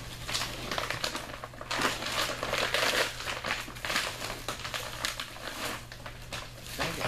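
Quilted emergency heat blanket's inner plastic bag being torn open at a notch and handled, a steady close crinkling and rustling that runs throughout with small bursts of crackle.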